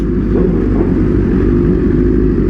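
A large group of sport motorcycles riding together, a steady loud engine drone rumbling throughout with slight swells, with no voices.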